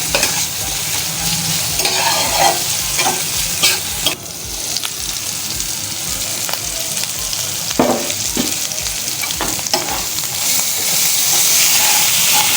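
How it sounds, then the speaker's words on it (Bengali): Spice masala with coriander and turmeric powder frying hard for chicken tikka masala, a loud, dense, continuous sizzle and hiss with occasional scraping stirs, close and unbroken. "এবার এটাকে ভালো করে কষাবো"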